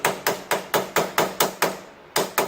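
A hammer strikes a punch on a part of a 2009 Yamaha Grizzly 700 ATV with the tires removed, about ten sharp metallic blows in a fairly even rhythm, close and loud with no talk.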